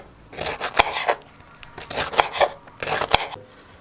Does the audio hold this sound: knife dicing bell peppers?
yes